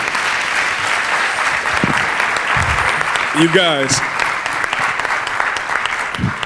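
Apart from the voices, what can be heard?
audience applause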